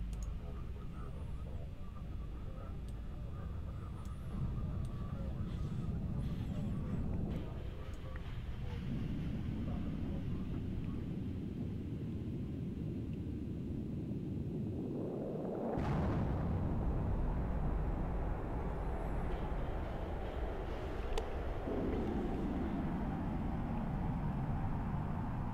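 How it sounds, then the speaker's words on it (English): A spaceship's warp drive in the game EVE Online makes a loud sustained low rumbling roar with a rising whoosh midway, continuous and close, without speech. "warp to location. Warp drive active."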